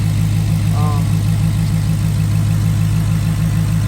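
A 2021 Dodge Challenger engine idles steadily with a newly fitted air intake, producing a loud, close, constant low rumble with an even throb throughout.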